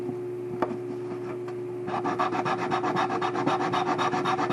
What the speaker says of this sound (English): So what this does is sands down the feet so they sit on the top at the curvature.